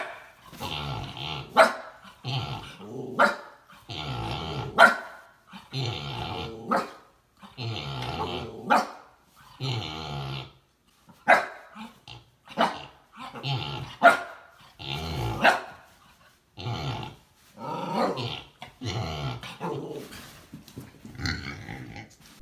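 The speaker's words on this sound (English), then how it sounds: "This dog is trying to wake up this tired pig." A dog barks and growls at a tired pig, sending out repeated bursts of loud, close barks and snarls in an uneven rhythm across more than twenty seconds with short pauses between volleys.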